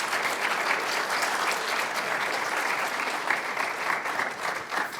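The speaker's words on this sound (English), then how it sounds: "So let's give them all a round of applause." At an annual moot court competition, an audience gives a sustained round of applause, thick continuous clapping from a full room holding steady throughout with no speech over it.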